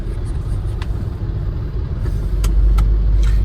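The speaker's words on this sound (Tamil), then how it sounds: "இங்கே செம்ம டிராஃபிக்" Heavy road traffic rolls past on a busy road, a dense, close rumble of car engines and tires that swells louder toward the end, with no talking.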